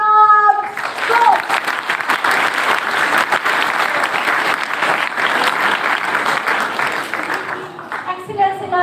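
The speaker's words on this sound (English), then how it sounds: "Claps! Go!" Loud, continuous audience applause at a school talk fills several seconds after an amplified introduction, with dense clapping that tapers off as a voice returns at the end.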